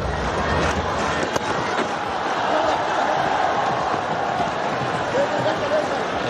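Broadband roar of a big cricket stadium crowd during a Pakistan innings, steady and continuous throughout at a distance, with a faint voice murmuring underneath.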